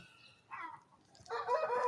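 An aseel rooster crows twice, each call short and fairly faint as if from some distance, over a quiet background.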